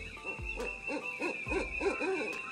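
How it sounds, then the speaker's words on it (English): A great horned owl hoots in a forest at night, giving a series of soft, deep, rhythmic hoots, about six in a row, fairly close and clear with no voices over them. "Screeched the great horned owl."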